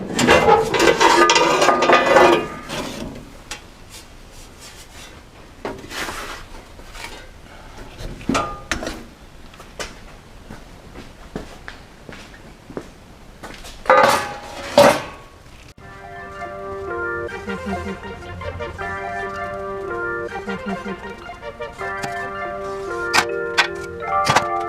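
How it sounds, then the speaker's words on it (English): A hand shear cuts through sheet metal floor board with a run of sharp, irregular crunching clicks and snips, close by, followed by music playing in the background. "I forget that I've got this hand shear"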